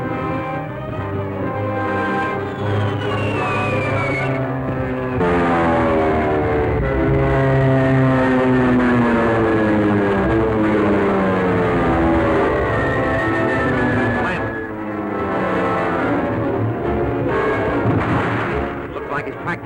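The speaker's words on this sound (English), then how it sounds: "Circle back to that plane." A propeller airplane drones overhead in a 1937 jungle adventure serial, a loud sustained engine hum with sweeping, shifting pitch lines as it passes, steady over the full stretch.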